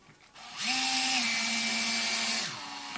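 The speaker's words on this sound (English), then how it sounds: "I can just pop these screws back into place." Power drill or screwdriver driving a screw into a plastic Squier Strat pickguard, a close, loud whirring motor burst of about two seconds that rises, holds steady, then winds down.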